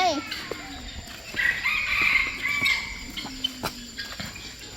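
Domestic chicken crowing at a zoo, several rising calls mid-clip over a busy background with children and people chatting nearby, birds calling faintly around.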